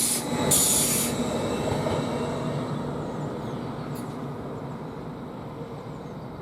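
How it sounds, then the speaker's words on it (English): A Greater Anglia Ipswich-to-Cambridge train pulls out of Bury St Edmunds station, a steady rumble of wheels and carriages rolling on the rails with a brief high squeal at the start. "it's a Greater Anglia service, 10:59 from Ipswich to Cambridge, is just left there"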